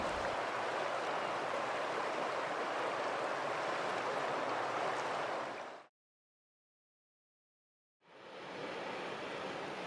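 The Deschutes River rushes past a flat riverside campground at Trout Creek in the high desert canyon of central Oregon, a steady loud broadband roar that cuts out abruptly for about two seconds before returning.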